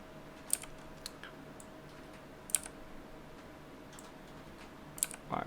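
Computer keyboard keys are pressed while code is deleted, giving a few quiet, sparse clicks in small clusters over a faint steady room hum, with no talking.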